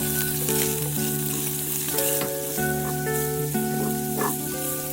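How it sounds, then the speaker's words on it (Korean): Steady loud sizzling of squid and shrimp stir-frying in hot oil over high heat, with occasional clinks and scrapes of stirring in a pan. "팬에 기름을 두르고 센 불에서 2분간 각각 볶아주세요."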